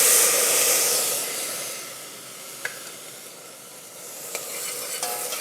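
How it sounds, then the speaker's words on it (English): White wine deglazing a pan of farro risotto, with a steady broad sizzle and hiss while the grains are stirred, a few faint scrapes of the spoon standing out near the middle and end. "Just going to deglaze out with a little bit of white wine."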